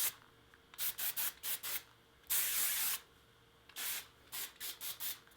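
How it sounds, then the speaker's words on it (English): Bursts of Sexy Hair High Tide texture hairspray sprayed onto short hair, a quick run of short hissing pumps, then one long steady spray, then another string of short puffs, close and fairly quiet with no talking. "So it's a hairspray and texture spray in one."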